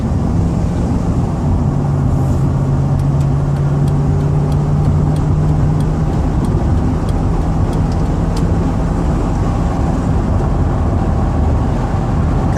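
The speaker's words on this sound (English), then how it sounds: "A little bit of traffic got the van up to 65 miles an hour." A 2003 Dodge Ram 1500 wheelchair van with 107k miles cruises at about 65 mph in light traffic, giving a steady, loud cabin drone of engine and road noise that holds unbroken throughout.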